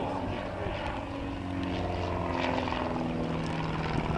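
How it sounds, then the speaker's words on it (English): A Pitts S-1D kit-built aerobatic biplane with a 200 horsepower engine flying at an airshow, a steady droning propeller engine heard at a distance, faint commentary underneath. "These are two S1D variants kit-built aircraft."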